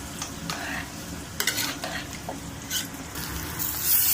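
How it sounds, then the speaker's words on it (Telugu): A spoon scrapes and stirs through ivy gourd and chana dal curry frying in a pan, with irregular scraping strokes over a soft background sizzle, close up and without speech. "ఫ్రై కదా, బాగా కలిపేసుకోవాలి"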